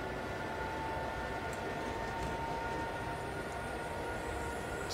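A train runs steadily in Train Simulator 2012 with a continuous rumbling roar and a faint tonal whine over it, loud and unbroken, with no speech.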